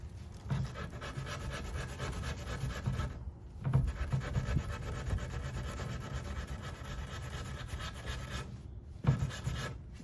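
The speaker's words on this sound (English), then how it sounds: "But I'm taking a 220 grit. I'm going to sand this down." Hand sanding stained tiger oak on a vintage Art Deco English bar cabinet with 220 grit sandpaper, a steady close rasping rub in long continuous strokes with two short pauses between passes.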